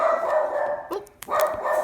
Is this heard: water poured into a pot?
no